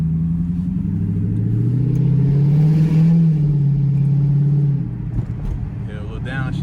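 Dodge Charger Pursuit engine rumbling loud and close, its pitch climbing as it revs on a downshift before easing off, with voices talking over it.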